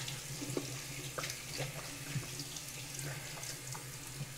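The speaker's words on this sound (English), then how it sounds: "we're just gonna wash off my face now" Tap water running steadily into a bathroom sink for face washing, a close continuous splashing stream with small splashes and clinks throughout, no talking.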